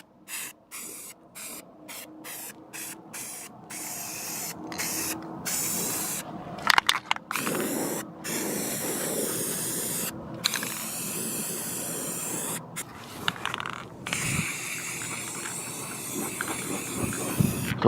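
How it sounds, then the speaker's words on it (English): A spray paint can hisses in short bursts at first, then in longer continuous sprays, with rattly clicks and brief pauses between passes, outdoors in strong wind while painting the back of a Ford F350 truck. "So we'll go ahead and do another spray on the back."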